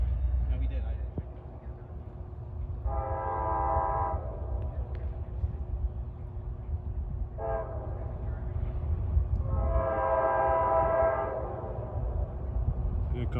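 An NJ Transit train bound from Port Jervis to Hoboken arrives on the mainline, its horn sounding loudly in two long blasts over a steady rumble of the approaching train, with people talking nearby.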